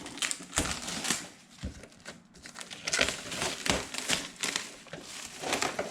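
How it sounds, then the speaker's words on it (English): Plastic wrapping is cut and pulled open on a boxed metal cabinet, close crinkling and tearing in irregular bursts with short pauses between. "we're just gonna cut open the little plastic wrapping on the outside"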